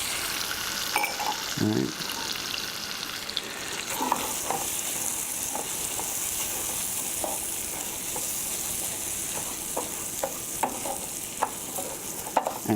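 Rice stirred and toasted in hot fat in a pan for spinach risotto, a steady close sizzle with scraping spoon strokes and soft clicks; a voice speaks briefly near the start.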